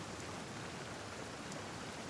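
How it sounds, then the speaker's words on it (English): Steady rain falling in a courtyard, a soft continuous hiss of drops on surfaces with no voices, even and moderately quiet throughout. "I love listening to the rain from the courtyard."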